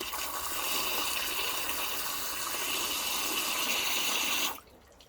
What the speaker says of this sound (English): That's absolutely pouring out the bottom now.